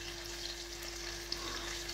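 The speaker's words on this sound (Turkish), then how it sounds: "biber kızarttım" Peppers fry in a pan with a steady, moderate sizzle and crackle, a continuous hiss with a few small pops and no one speaking.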